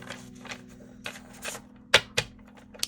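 A deck of cards is shuffled close by in a few quick riffling bursts with crisp flutters and snaps between quieter gaps, over a low steady hum.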